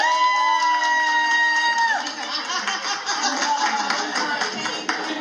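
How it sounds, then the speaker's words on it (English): A close, loud crowd claps, cheers and whoops for a comedy performer, with sustained shouting voices on top and the noise fading slightly toward the end. "can y'all please clap it up collectively for Cody?"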